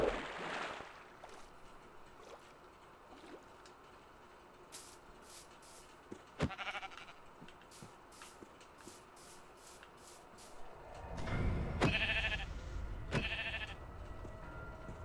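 Several short sheep bleats in Minecraft, mostly near the end, over quiet background ambience, with a few soft footsteps and clicks earlier.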